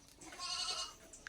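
A single goat bleats once, a short wavering cry lasting under a second, fairly faint against quiet outdoor background at a rural home.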